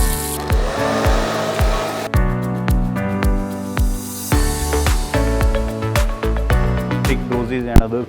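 Busy pharmaceutical factory floor with a dry syrup bottle filling line running steadily, a continuous loud mechanical whir layered with repeated clanks and rhythmic clicks of bottles and parts.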